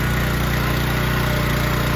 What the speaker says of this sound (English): So let's start up the engine and see what happens.